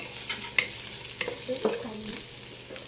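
Garlic fries in a hot wok with a close, steady sizzle, broken by the scrape and clatter of stirring.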